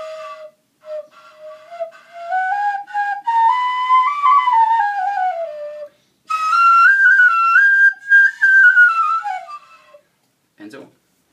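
Replica Ice Age flute with a v-shaped mouthpiece, held sideways and blown, giving breathy whistling tones that glide up and down in two melodic phrases with short pauses, fairly close and clear.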